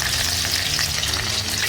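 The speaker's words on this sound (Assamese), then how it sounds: "এতিয়া কেৰাহীত তেল দিছোঁ, অকণমান জিৰা দিছোঁ, তেজপুটামান নহৰু দিছোঁ, শুকান জলকীয়া 4টা দিছোঁ" Cumin, garlic and dried and fresh chillies fry in hot oil in a wok, giving a loud, dense, continuous sizzle with light crackling close up, and nobody talking.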